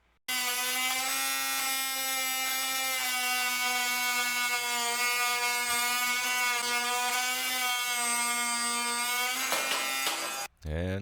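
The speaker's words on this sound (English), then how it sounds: "here we are cutting pipe with the oscillating cutting tool." An oscillating multi-tool saws through PVC pipe with a loud, steady buzzing whine that holds continuously for about ten seconds before cutting off abruptly, no speech over it.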